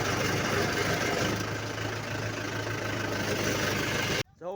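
A tractor engine idling at a farm plot, a steady, close mechanical rumble with a low throbbing hum that runs unbroken until it cuts off abruptly near the end.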